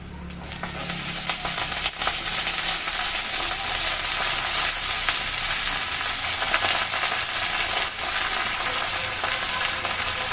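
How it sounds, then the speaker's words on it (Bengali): Red amaranth greens dropped into hot oil tempered with coconut and green chilli, giving a loud, dense, continuous sizzle with occasional stirring clicks. "এখন দিয়ে দিচ্ছি শাক"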